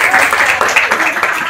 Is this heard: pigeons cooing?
no